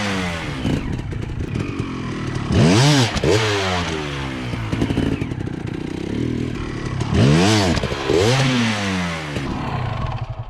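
A dirt bike engine revs loudly and continuously while riding over logs, with two sharp bursts of rising throttle blips climbing and falling in pitch, plus clattering and scraping from the bike over the obstacles.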